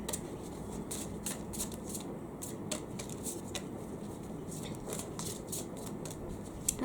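Tarot cards are shuffled in a steady run of crisp riffling flicks, close and fairly quiet, with no voices over them.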